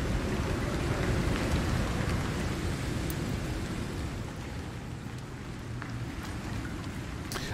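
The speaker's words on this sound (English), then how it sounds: "The storm needs to be over so I can go check." A thunderstorm pours down in a dense, steady hiss of heavy rain, with a faint rumble underneath and occasional sharper drops or ticks, continuous and fairly loud throughout with no voices.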